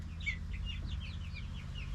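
Easter egger and Americana chickens cluck softly in a backyard flock, a run of short chirpy calls repeating every fraction of a second over a steady low rumble of background noise.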